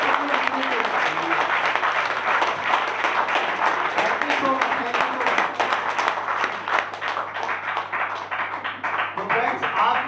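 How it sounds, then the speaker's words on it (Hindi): A seminar audience at a business opportunity event applauding loudly, dense sustained clapping throughout with some crowd noise and voices mixed in. "ऐसे नहीं, जोर से ताली हाथ लगा दो।"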